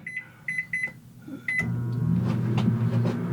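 A few short electronic beeps sound, then a microwave oven's steady low hum with a whirring fan starts up and keeps running.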